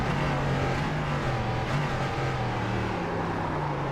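Race car engine in the iRacing video game at turn one, revving and downshifting as the car spins, a continuous loud engine tone with shifting pitch and no voices.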